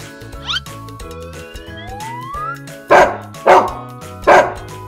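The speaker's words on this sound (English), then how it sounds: "D is for dog." A dog barks three times in an evenly spaced sequence, clear and close, over a bouncy children's learning song melody with sliding tones.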